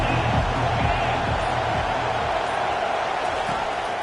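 Stadium crowd in a college football video game (CFB25, Arizona State vs Florida) roaring as one dense, continuous wash of cheering that holds steady and loud throughout.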